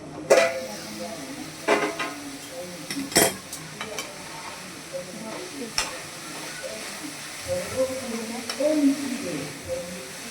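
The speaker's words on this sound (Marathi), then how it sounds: "चला आता आपण झाकून उघडून बघूया भाजी शिजली का." Chavli leaf vegetable cooking in a pan, with a soft sizzle running underneath as the lid is lifted. Sharp metallic clinks from the lid and utensils stand out against a low, steady hiss.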